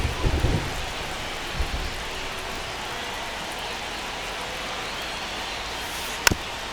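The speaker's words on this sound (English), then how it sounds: "It really feels like we might be running out of time before a rain delay is called. This rain is not letting up." Steady rain hisses over a baseball game in MLB The Show, a constant wash of noise with a few brief low thumps early and one sharp crack near the end.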